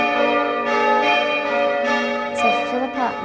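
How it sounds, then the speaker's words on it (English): Church bells ring at St Francis Xavier's Cathedral in Adelaide, their overlapping tones sustaining loudly and close, with new strikes layering over the decaying hum. "So Philippa and Saskia, I've just seen you ring some bells and it was absolutely amazing"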